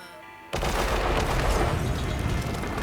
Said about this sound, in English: it plays a tune and rubber ducks start falling from the sky, which then explode.